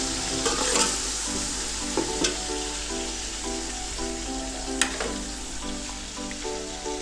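Ginger garlic paste sizzles steadily in a hot pan, with occasional scraping clicks of a spoon stirring it.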